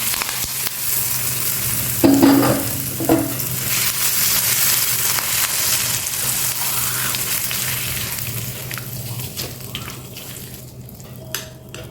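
Curry leaves and asafoetida are sizzling in hot oil as a tempering for cucumber chutney, giving a steady, crackling fry. A burst of sharper spitting comes early on, then the sizzle slowly dies down as the heat is turned off.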